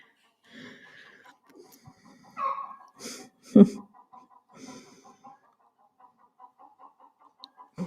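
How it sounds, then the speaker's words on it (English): A chicken outside a window during a home yoga session gives soft, intermittent clucks, faint and at a distance, mixed with quiet breathing and small room noises. "I have no idea why there's a chicken still outside."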